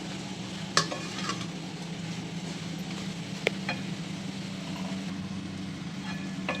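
Potatoes being stirred into a spicy potato gravy frying in a pan, a steady close sizzle with soft scraping stir strokes and a couple of sharp utensil clinks, no talking.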